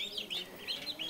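Small high chirping peeps from goslings repeating in quick bursts, faint and nearby, like young birds calling.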